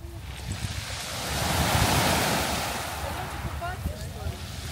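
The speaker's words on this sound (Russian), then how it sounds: "на улице очень ветрено" Strong wind roars by the sea, with crashing surf swelling and fading in a broad wash; faint chirps and voice-like sounds appear near the end.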